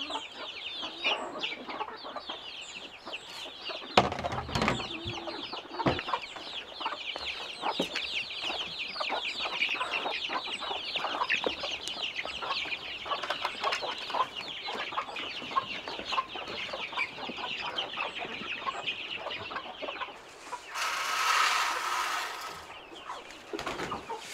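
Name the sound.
chickens clucking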